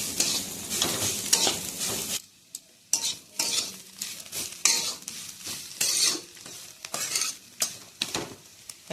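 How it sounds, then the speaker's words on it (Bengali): Kohlrabi fries slowly in a pan with little water left and is stirred, producing a sizzling hiss broken by repeated scraping and clattering strokes of the spoon against the pan, near and fairly loud. "এরকম করে আস্তে আস্তে ভাজবো"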